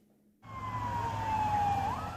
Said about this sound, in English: welcomed in with the sound of police sirens